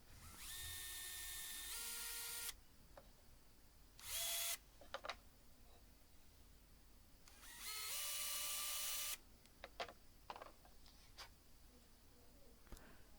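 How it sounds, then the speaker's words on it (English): A power drill whines in two bursts while drilling pilot holes in scrap wood, one longer then a second, with short buzzes and clicks between them and quiet handling noises. "So I'm just going to drill a couple of pilot holes."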